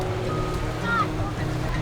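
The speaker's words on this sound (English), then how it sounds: "the tide is rising really fast, and so all the cold water keeps pouring in" Cold tide water surging up onto a geothermal hot-water beach in New Zealand, a steady broad wash of surf with wind noise, fairly loud and continuous with no clear break.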